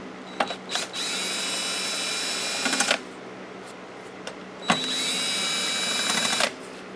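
A power driver whirs in two sustained bursts of about two seconds each, separated by a pause, while backing out two 1/4 inch top cover bolts on a Craftsman lawn mower, loud and close.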